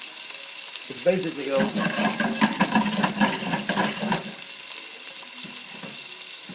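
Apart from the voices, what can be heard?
sautéing food in a pan until golden brown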